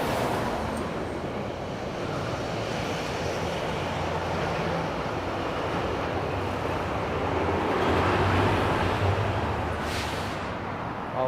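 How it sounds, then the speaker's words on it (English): A GO commuter train passes in Toronto, heard as a long, broad rumble and rush that stays steady and swells slightly toward the end, with no voices. "Oh, we got a GO train."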